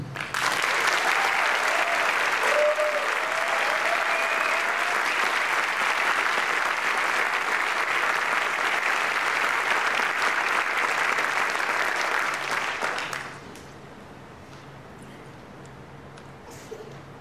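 Sustained audience applause at a military school class graduation ceremony, loud and steady for about thirteen seconds before dropping away abruptly to quiet room noise.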